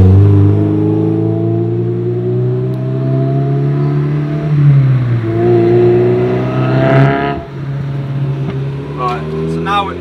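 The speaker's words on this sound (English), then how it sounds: "we're going to have to drop a gear and go uphill then" A Mazda MX-5 1.8 drops a gear and accelerates uphill, its engine note holding a steady, loud harmonic drone that dips and climbs again, with people talking over it throughout.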